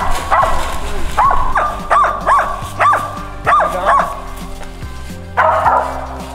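A feist squirrel dog barks at a treed squirrel during a competitive hunt, sharp yips and barks repeating in uneven bursts close by, with a person talking intermittently underneath.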